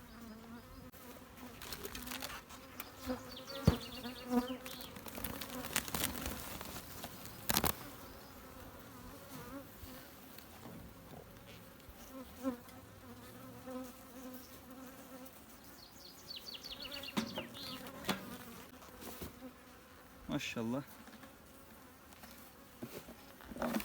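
Honeybees buzz steadily around an opened hive during an inspection of colonies due to be split, a dense swarm drone close by with brief louder passes and occasional handling knocks.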